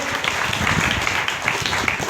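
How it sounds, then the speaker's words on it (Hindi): A crowd at a DXN product meeting claps together for Dr. S. Ranjan, a brisk, fairly loud patter of many hands sustained without pause across the whole moment. "डॉक्टर एस रंजन के लिए जोरदार ताली होनी चाहिए"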